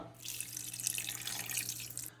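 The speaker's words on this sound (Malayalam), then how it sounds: "അതിലേക്ക് ഒരു അല്പം വെള്ളം ഒഴിച്ചു കൊടുക്കണം കേട്ടോ." Water streams steadily into a bowl for a couple of seconds, a bright continuous splashing pour with a faint low hum underneath.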